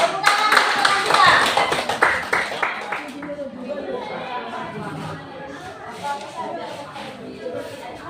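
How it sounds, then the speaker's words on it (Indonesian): Classmates in a classroom clap for a fellow student, a burst of loud close claps that fades after a few seconds into quieter tapping and murmured chatter among the students. "Tepuk tangan untuk teman kita."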